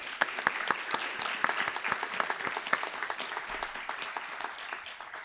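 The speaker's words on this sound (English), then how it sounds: "let's give a round of applause to each other." Applause from the audience at an academic book award ceremony, a modest crowd of separate claps heard distinctly in an uneven patter, moderately loud and sustained with no talk.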